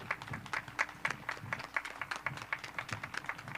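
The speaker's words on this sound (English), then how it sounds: "We have to give a round of applause for those who have given back to this university." A commencement ceremony audience claps in sparse, individually distinct claps at a distance, fairly quiet and steady throughout with no talk over it.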